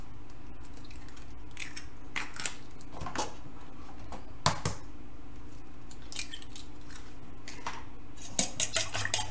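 Eggs being beaten in a bowl with a utensil, a quick run of light clinking and tapping strokes, close and fairly quiet, with brief pauses between bursts.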